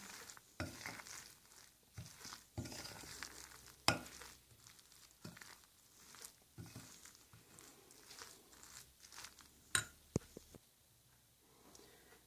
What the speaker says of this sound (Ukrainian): 100 грамів борошна. и розмішуємо.